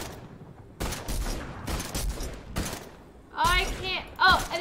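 Bursts of gunfire in the Fortnite video game, several separate volleys of rapid shots at moderate distance, with players talking between and over them.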